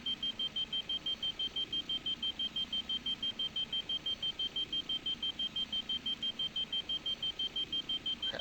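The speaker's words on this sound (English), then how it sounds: "I think that alarm is just not going anywhere, maybe." A steady electronic alarm beeps in a fast, regular rhythm throughout, a thin high tone repeating without pause over low ambient rumble, with no talking.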